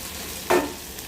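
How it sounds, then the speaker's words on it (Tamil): Taro root pieces roasting in a pan get one quick stir, a single sharp scrape rising out of a low, steady frying hiss. "வறுப்படட்டும் பார்க்கலாம் அப்பப்போ நடுவில் நடுவில் கிளறி கொடுத்துக்கோங்க"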